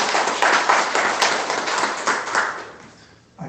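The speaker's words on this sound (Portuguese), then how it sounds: "Posso dar um aplauso ao Senhor Jesus?" Church congregation applauding in praise of Jesus, a dense wash of many hands clapping close by, steady and loud for about three seconds before fading abruptly.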